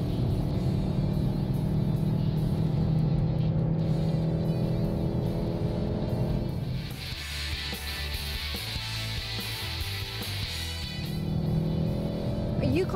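A 2017 Volkswagen Golf GTI driven hard at high speed on a track, its engine droning loud and steady with a shift in pitch and tone partway through.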